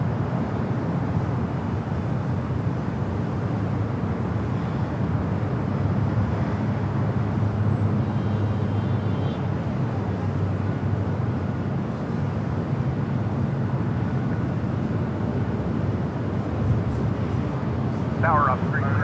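Airbus A350-900 airliner on an ITA flight bound for Rome at LAX, a steady broad engine roar held throughout at moderate level, with radio chatter and talk running over it.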